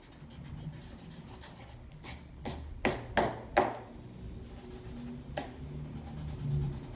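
A Sharpie marker fills in negative space on a sheet of paper, with soft scratchy strokes and a run of sharp taps as the marker works over the surface. The sound is near and fairly quiet, with no talking.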